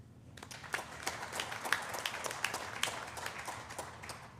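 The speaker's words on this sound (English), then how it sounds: "Please join me in a round of applause with thanking them." Applause at a National Honor Society induction ceremony, a steady patter of hand claps from an audience at moderate distance with sharper individual claps standing out, sustained throughout without speech.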